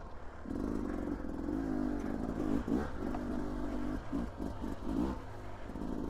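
A 2024 Beta 300 RR two-stroke dirt bike ridden along a trail in Idaho at sunset, its engine buzzing and revving in repeated short bursts amid rattling and wind.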